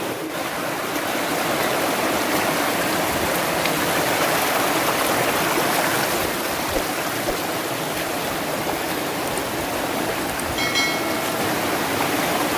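Steady rushing water from a flowing stream fills the scene, a constant broadband wash without pause and no voices.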